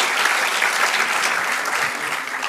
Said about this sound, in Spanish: Sí, apláudele si le vas a aplaudir.